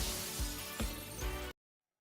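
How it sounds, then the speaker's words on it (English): A loud glass crash for a Jones Paint and Glass store ad: a dense burst of shattering with a few sharp impacts, cutting off abruptly into silence after about a second and a half. "When you hear the crash."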